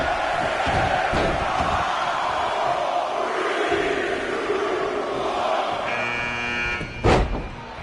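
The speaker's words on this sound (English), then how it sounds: "Listen to this crowd count the next one in." A wrestling video game crowd roars steadily in a big arena as a pinfall count builds, a continuous wash of cheering voices ending in a short loud burst.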